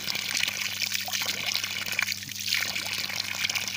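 Water pumped up from a well, carrying a little white clay, gushes and splashes in a continuous loud rush over a low steady pump hum.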